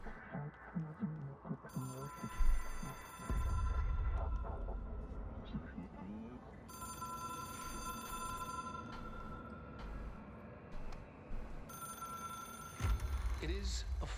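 A telephone rings in the video game Control, its bell sounding in repeated bursts over a low droning ambience, with a person talking underneath at times.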